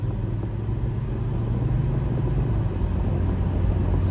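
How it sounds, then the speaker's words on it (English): Engine of a 2002 Subaru Forester AWD accelerating while driving, heard from inside the cabin as a steady, low rumbling drone that swells gently with no talk. "Smooth acceleration."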